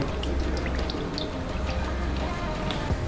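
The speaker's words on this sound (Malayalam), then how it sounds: "കുറച്ച് വെളിച്ചെണ്ണ ഒഴിക്കുന്നു" Steady pouring of coconut oil into a hot clay pan, with sizzling spatter, continuous and close, with faint crackles scattered on top.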